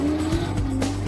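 A Subaru drift car running a turbocharged 4.4 litre BMW V8 roars loudly with a sustained engine drone and tire squeal throughout a brief, continuous burst, with no talking.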